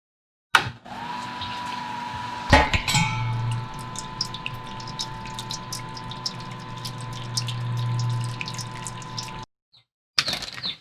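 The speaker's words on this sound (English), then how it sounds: "Now I'm going to go ahead and slowly drain the mash tun and put it in the boil kettle." Wort drains from a mash tun into a boil kettle during home brewing, a steady close rush of flowing liquid with a low pump-like hum, starting after a clunk and cutting off near the end.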